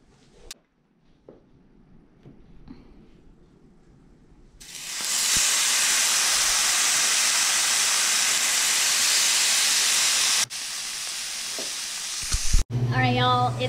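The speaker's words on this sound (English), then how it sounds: "So you want a hot pan and we are literally just going to put the fish directly on there." Trout fillets hit a hot pan and break into a loud, steady sizzle that holds for several seconds, with a brief dip before it flares up again, after a quiet lead-in.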